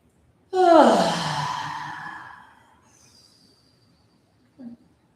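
A long, deep breath during a yoga flow class, sighing and fading over about two seconds, followed by a brief soft sound a moment later.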